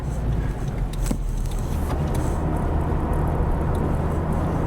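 Honda Civic Type-R 2.0T with 320 hp cruising at low speed, heard from inside as a steady, close, low road-and-engine rumble with a few faint clicks.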